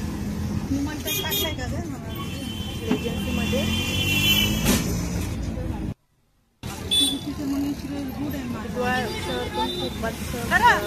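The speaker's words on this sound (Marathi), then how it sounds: "आता इथून रिक्षा पकडला आहे, आता आम्ही चाललो आहोत त्यांच्या" Auto rickshaw riding through busy road traffic, with a steady engine and road rumble, car horns tooting and street crowd babble around it, a brief dropout midway, and people talking over it.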